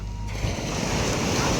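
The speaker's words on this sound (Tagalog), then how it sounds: "Galit ang dagat. Lakas ang hampas ng alon." Rough sea with strong waves crashing on a shore, a loud, continuous broadband wash of surf mixed with gusting wind buffeting the microphone.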